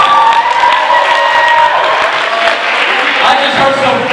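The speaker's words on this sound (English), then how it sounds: "round of applause, y'all." A crowd gives a round of applause with cheering and whoops, a steady, dense wash of clapping and shouting that fills the space for the full stretch.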